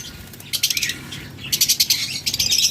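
A locally bred, close-ringed breeding pair of lovebirds gives bright, rapid chirps in two bursts, with wing flutters among them; nearby and fairly clear against a quiet background.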